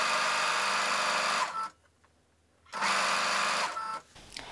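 A sewing machine stitches across a scrunchie's fabric layers in two loud, steady motor runs, separated by a brief pause before it starts again.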